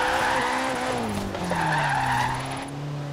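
A car drifting in Forza Horizon 3, driven with a Logitech G920 wheel on simulation steering during a clutch kick, sounds like a loud steady engine drone with pitch that shifts under continuous tire squeal and skidding.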